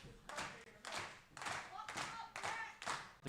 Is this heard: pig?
no